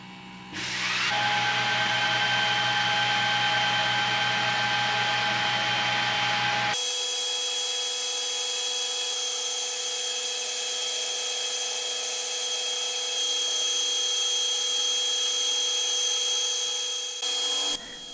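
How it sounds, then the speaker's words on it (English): Laser cutter cutting 10mm-thick wooden cot slats, a steady loud mechanical whir with fan hum that shifts to a higher, brighter tone partway through and holds steady, with no talking. "By hitting the frame function, it gives you a good idea of where the laser is going to be doing the cutting"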